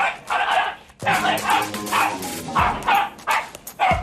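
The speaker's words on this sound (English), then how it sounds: "he's got a good bark, hasn't he?" Small, aggressive dog wearing a muzzle barks sharply again and again in short, loud yaps and whimpers, with people talking close by between and over the barks.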